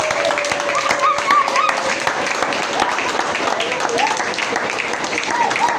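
A church congregation claps continuously during a revival service, with loud, dense applause mixed with voices and occasional shouts rising above the steady patter.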